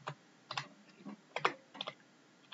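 Keys tapped on a computer keyboard while HTML table code is typed, a few quick clusters of close, crisp clicks with short pauses, no voices.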